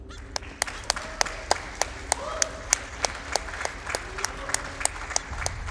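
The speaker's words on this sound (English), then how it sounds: "let's get some applause for finishing that level" Scattered sharp claps repeat at a quick, uneven rhythm from a small audience at a speedrunning charity event, with faint voices underneath.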